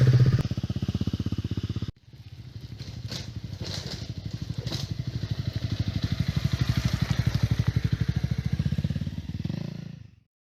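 Motorcycles riding along a muddy green lane near Mellor and Marple, a loud close engine thrumming with rapid firing pulses, briefly cut off then rising steadily again and fading at the end, with no talk.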